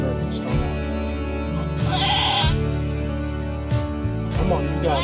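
A first-time Kiko doe bleats while giving birth to twin bucklings outdoors, her cries repeating close by under a person's encouraging voice and other steady background sound.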